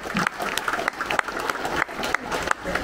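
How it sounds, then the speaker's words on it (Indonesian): An audience at a village gathering in Nihaone claps for the DPRD chairwoman, a short, moderate burst of applause with distinct individual claps pulsing irregularly. "Nama kita tepuk tangan dulu untuk Ketua DPRD."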